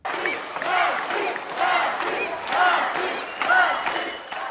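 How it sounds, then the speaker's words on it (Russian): About a hundred young freestyle wrestling fans watch a match broadcast in a sports gym and roar in repeated swelling waves of shouting and cheering, each burst rising and falling over several seconds. "Вот так юные болельщики реагируют на каждое удачное действие своего любимца"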